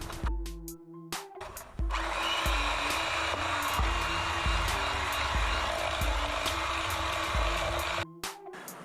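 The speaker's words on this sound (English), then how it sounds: "we're going to add them one at a time while the mixer's running" An electric kitchen mixer whirs steadily while eggs go one at a time into creamed cookie dough, with rhythmic low thumps under the motor's hum. It stops and starts briefly at the beginning and end.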